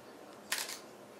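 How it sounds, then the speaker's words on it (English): A Lumix GH3 camera fires a single short, crisp shutter click in a quiet room, close and brief. "even though it did make a shutter sound"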